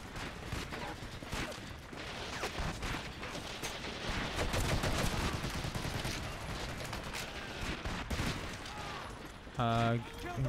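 Rapid bursts of gunfire from a World War II battle in Medal of Honor: European Assault, dense overlapping rifle and machine-gun shots going on steadily throughout, with a short mechanical clatter near the end.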